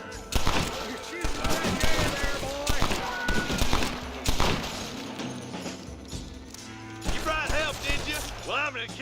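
Repeated gunshots in the Western game Red Dead Redemption, sharp loud cracks scattered across a shootout with echoing impacts, while characters talk over the firefight.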